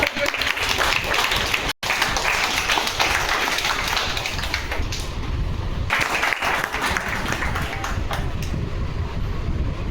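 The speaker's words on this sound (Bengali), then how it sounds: "একটু হাততালি দেন জোরে।" Loud, sustained applause from a meeting audience gathered for a marketing management event in Malda district, dense clapping that carries through nearly ten seconds with one brief dropout, faint voices mixed in beneath.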